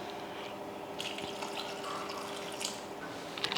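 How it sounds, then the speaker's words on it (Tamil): Water poured into a cooking pot while making a potato gravy for pressure cooking, a steady close splashing and trickling stream with a few brief drips, no talking. "இன்னும் கொஞ்சம் தண்ணி ஊற்றிக்கலாம்"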